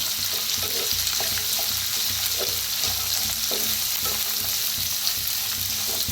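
Cashews roast in a hot pan with a constant bright sizzle, while a spoon stirs and scrapes in periodic soft knocks beneath the frying noise; no voices.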